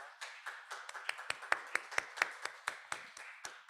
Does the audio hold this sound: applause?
yes